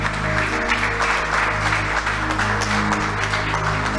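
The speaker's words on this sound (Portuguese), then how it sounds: "vamos aplaudir a Ele bem forte, com alegria" A church congregation applauds joyfully during a worship service. Continuous dense clapping sits over a sustained musical drone and holds evenly for several seconds.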